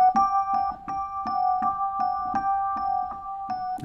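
A theme from the Halloween film score: a sparse melodic figure of evenly spaced, repeated notes over a held sustained tone, steady and moderately loud, with no voices.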